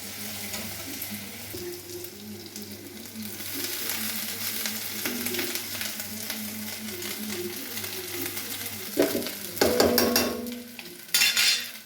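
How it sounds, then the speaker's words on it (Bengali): Fried rice being stirred in a hot wok after a little sugar goes in: a steady, close sizzle with soft scraping, then sharper clatters and scrapes of the stirring near the end. "ফ্রাইড রাইস যেন একটু মিষ্টি মিষ্টি হয় এর জন্য মা অল্প একটু চিনি দিয়ে ভালো করে নেড়ে চেড়ে নিল"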